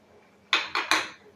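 Three quick clinks of a spoon against a bowl as spoonfuls of sour yogurt are added for a lote fish masala curry, close and crisp in a quiet kitchen.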